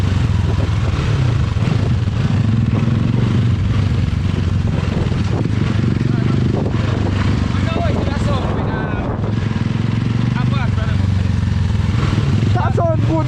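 A Yamaha MT03 two-cylinder motorcycle engine runs steadily and loud at close range, with a continuous low rumble throughout as people talk over it.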